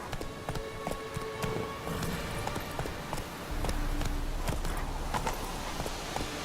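Roach, the horse in The Witcher 3, drums out steady hoofbeats over rough ground, a continuous rhythmic clatter of hooves against a busy game soundscape with music-like tones underneath.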